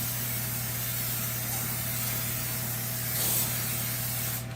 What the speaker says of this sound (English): I'm going to go ahead and spray it really well with cooking spray.